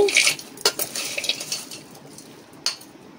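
A spoon scrapes and clinks against a pan while fried green chillies, curry leaves and peanuts are mixed into ivy gourd, with a loud clatter at the start and sparse sharp knocks fading toward the end.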